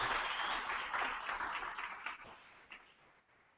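A workshop audience applauds a group's photojournalism work, a dense patter of clapping that is strongest at first and gradually thins and fades.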